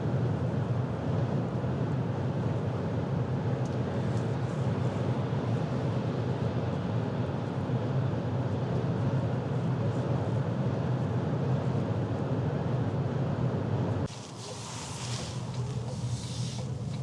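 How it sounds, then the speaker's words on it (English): Steady broadband wind rush with a low engine hum inside a moving 2024 Toyota RAV4 Hybrid XSE AWD, constant and fairly loud, little road noise, shifting to a lighter tone near the end. "I hear a little bit of wind noise, but there's very little road noise."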